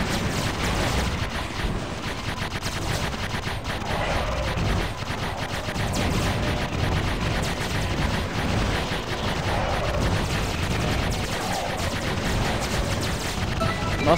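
Heavy, continuous gunfire and explosions fill the Xbox space shooter Aces of the Galaxy, a loud and relentless barrage of rapid shots without a break.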